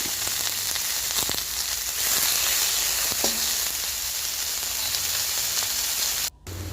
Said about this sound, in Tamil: அடுத்து கரைச்சி வச்சிருக்கிற பொட்டுக்கடலை மாவை அப்படியே ஊற்றணும்